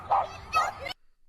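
Two quick yappy barks from a small dog, close and fairly loud, followed by a brief silence and a short clipped sound at the end.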